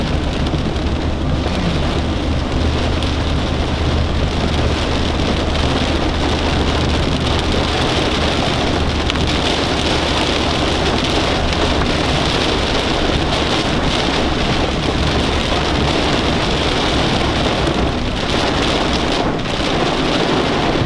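Heavy rain from a bad storm pours down loudly and continuously on a vehicle driving along a highway, a dense, steady roar of drumming drops with low road rumble and no talk.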